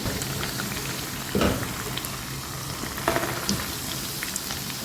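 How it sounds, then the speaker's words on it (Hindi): Pizza cutlets frying in oil over a low flame, a steady soft sizzle and crackle with a couple of brief louder spatters, no voices. "और लो फ्लेम पर फ्राई कर रही हूँ मैं इसे।"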